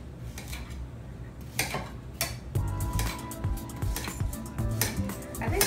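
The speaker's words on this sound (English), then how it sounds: "now get started cutting up our vegetables" Summer squash is chopped on a cutting board in a home kitchen, giving scattered knife taps and the clink of dishes and utensils. The sounds are fairly close against a steady background hum, with no talking.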